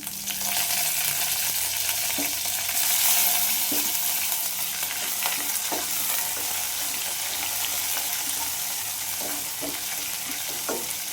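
Curry leaves frying in hot oil for moong dal saaru, a continuous close sizzle and crackle with scattered sharp pops and light stirring scrapes, steady throughout with no voices.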